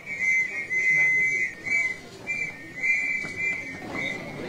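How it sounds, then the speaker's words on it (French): Palestinian scouts in Bethlehem blowing shrill whistles to start a Christmas procession, several long sustained blasts repeating over crowd murmur. "Les scouts palestiniens alignés donnent le coup de sifflet de la procession traditionnelle"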